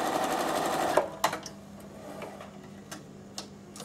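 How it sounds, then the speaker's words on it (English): A Bernina sewing machine runs steadily stitching rows, a dense mechanical whir that stops abruptly after about a second, followed by a few faint clicks and taps nearby. "you don't need to watch me sewing rows and rows of stitching"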